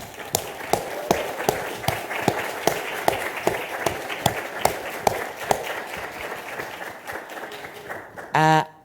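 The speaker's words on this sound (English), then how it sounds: "So let's give them a round of applause" A small audience claps for several seconds, individual claps distinct and rhythmic, thinning out before a brief tonal sound at the end.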